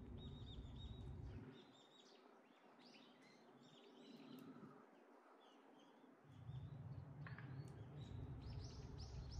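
Birds sing in a park near a Sengen shrine on Sengenyama, with chirps and tweets scattered over quiet background noise that drops out briefly before returning.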